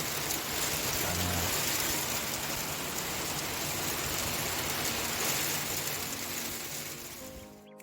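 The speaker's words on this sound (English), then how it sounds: "So as you can see, there rain is about to fall." Steady rain pours down outdoors near rainwater harvesting tanks, a dense, even hiss with no pauses that fades slightly in the final second.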